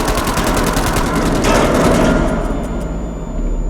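Rapid gunfire bursts in the horror video game Man of Medan, dense repeated loud shots hammering close for several seconds before thinning toward the end, with no talking.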